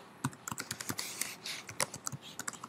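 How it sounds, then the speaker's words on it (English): An email address being typed on a computer keyboard produces a quick, steady run of close, crisp key clicks with no talking. "You need to type in your email address"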